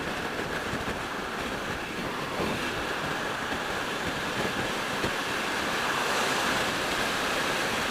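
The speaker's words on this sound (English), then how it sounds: "Wind is picked up, but again, it's smooth. It's a smooth wind." Steady roaring wind rushes past while riding a Triumph T120 motorcycle at speed, a dense, even broadband noise that stays loud and constant throughout.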